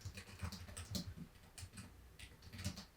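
Steady, uneven clatter of typing on a computer keyboard, close and clear with quick irregular keystrokes over about three seconds, no voices.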